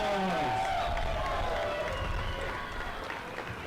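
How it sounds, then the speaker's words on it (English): A crowd claps and cheers at a youth enduro race awards ceremony at Iron Springs Resort, Cedar City, Utah, the applause fading over a few seconds while a voice talks over it. "Let's give these 13 to 14 boys a round of applause."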